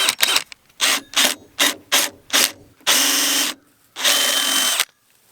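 A power drill fitted with a right-angle attachment runs in short repeated bursts, then two longer steady runs, its geared whir ratcheting up close with brief silences between.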